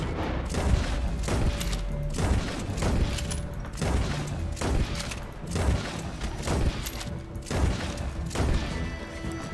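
Heavy gunfire from the new weapons in Red Dead Redemption 2, sustained volleys of loud booming shots in quick bursts throughout, with no talking.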